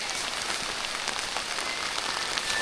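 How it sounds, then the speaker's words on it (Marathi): Heavy rain pours steadily at Raigad Fort, a dense continuous patter of drops on surfaces, close and even throughout with no voices. "निघालोय आणि जोरदार पाऊस आलाय"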